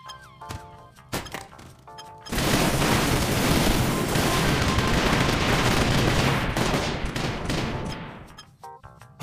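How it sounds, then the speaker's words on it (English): Blocks being smashed and destroyed in a mobile sandbox game in the style of People Playground, a sustained loud barrage of thuds, cracks and gunfire-like booms that runs for several seconds before tapering into scattered impacts. "Random blocks getting destroyed."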